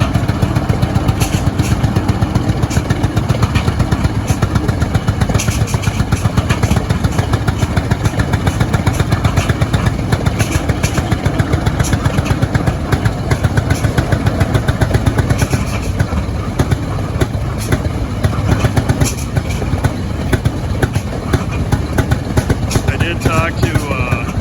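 An antique two-stroke tractor runs steadily at a vintage farm machinery show, its fast, rattling exhaust beat loud and continuous over crowd ambience.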